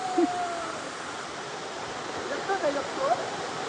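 The hidden Kunkeshwar katvan waterfall at Nhavnkond pours as a steady, dense roar of falling water close by, with brief voices and calls breaking through over it.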